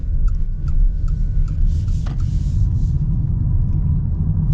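A 2024 Mitsubishi Outlander PHEV driving on electric power: a steady low road rumble inside the cabin, with faint ticking clicks above it.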